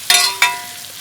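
Coriander powder stirred into beef curry masala frying in a pan: two sharp, close sizzling bursts a fraction of a second apart, each fading quickly.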